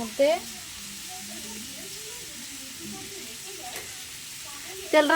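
Chopped onions frying in oil after eggs were fried, a steady sizzle with brief louder bursts at the start and end, with no talk over it.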